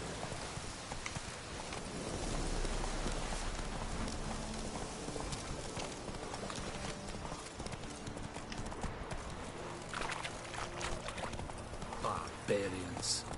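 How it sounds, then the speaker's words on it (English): A horse gallops in The Witcher 3: Wild Hunt, its hooves clip-clopping in a quick, steady rhythm over rain and ambient noise, with a voice speaking briefly. "Giddy up."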